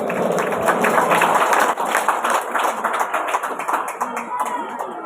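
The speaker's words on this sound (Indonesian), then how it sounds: "Kita beri aplaus dulu untuk mereka dua ini." Audience applause at a school student council election at a vocational high school in Maumere, a crowd clapping loudly and steadily, gradually thinning and fading toward the end, with no talking over it.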